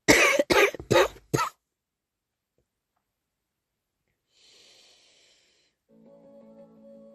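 Four sharp coughs in quick succession, close and loud, followed by quiet and faint rustling and soft tonal sounds.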